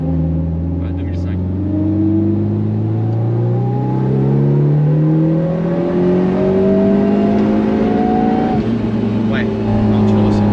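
A turbocharged car pulls hard in third gear, its engine note climbing steadily in pitch for about eight seconds before a brief shift-like break, then continuing; the sound is close and loud inside the cabin, with occasional voices over it.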